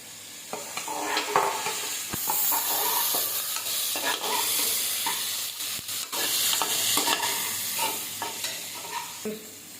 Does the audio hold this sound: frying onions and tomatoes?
yes